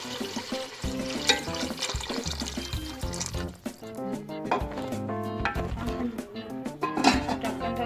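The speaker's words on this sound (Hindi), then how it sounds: "अब मैं इसमें पानी शामिल कर दूंगी।" Water is poured into a pot of frying potato masala with green chilies and pickle, splashing and hissing over the hot spices, with utensil clatter and sizzling close by.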